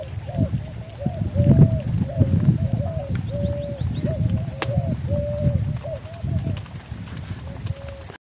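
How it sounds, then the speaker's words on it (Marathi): Birds call outdoors in a village in a steady run of soft, repeated cooing notes, with voices talking underneath throughout. "शांत वातावरण आहे पक्ष्यांचा किलबिलट आहे"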